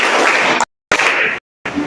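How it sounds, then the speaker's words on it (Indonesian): A class of children clap their hands together in a rhythm game, dense overlapping claps in two short loud bursts separated by brief silences. "Tepuk 4."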